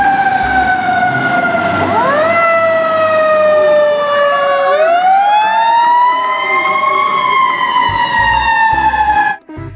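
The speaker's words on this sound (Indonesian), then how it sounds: "Yang ini ada mobil pemadam kebakaran." A toy fire truck's electronic siren wails loud and close for about ten seconds, its tone sliding up and down in repeated sweeps before cutting off abruptly at the end, with no voices over it.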